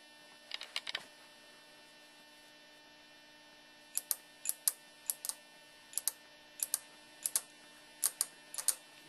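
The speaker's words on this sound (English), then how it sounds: "when these two make contact, you can hear the relay closing" A relay on a 12-volt hydrogen tap water sensor clicks sharply over a steady mains hum, with a few early clicks and then a string of irregular close ticks and no voices.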